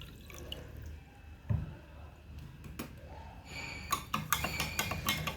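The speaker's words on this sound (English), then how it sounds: "So let's add water in the container containing stones." Water poured into a container of stones, heard as scattered drips and splashes that build into a denser run of liquid splashing near the end, fairly close and modest in level.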